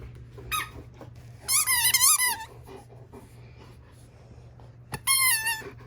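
A dog playing with a squeaky toy produces bursts of loud, high wavering squeaks, one long run of squeezes in the middle and another near the end, with quieter panting and shuffling between them under a low steady hum.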